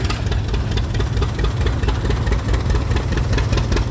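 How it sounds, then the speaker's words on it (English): A 1967 John Deere 1020 tractor engine runs at a tractor parade, giving a steady, fairly loud idling chug with a low, rough rumble that continues throughout, with no voices. "Next up, a 1967 John Deere."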